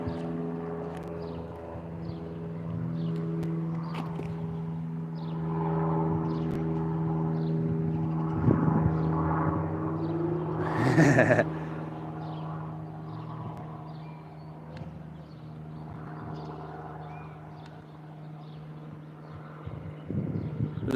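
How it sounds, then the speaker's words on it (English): An airplane passes overhead as a steady, droning hum that holds throughout, with a brief louder thump partway through and no talking. "Airplane."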